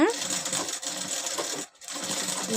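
A pedal-operated sewing machine runs during a tailoring class, giving a steady close whirring, clattering stitch rhythm with one brief pause before it starts up again.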